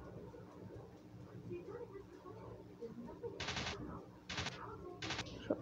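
Three short machine-gun bursts ring out in a World War One dogfight video game, crackling rapid-fire over a low engine drone and game background, with faint talk underneath.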